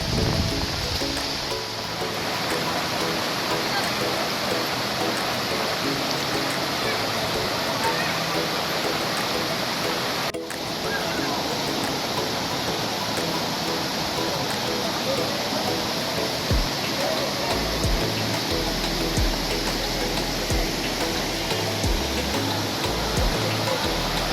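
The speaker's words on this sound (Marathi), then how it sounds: "हा इकडं छोटासा वॉटरफॉल आहे" A small waterfall along the trail at Karnala Fort near Panvel pours out a steady, dense rushing roar that fills the air evenly throughout, with faint voices of visitors now and then.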